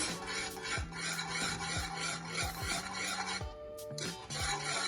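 A spoon scrapes and stirs mixed spice into Jamaican peanut porridge in a pot, repeated rasping strokes in a steady rhythm, close and fairly quiet, with a steady background hum and no voices.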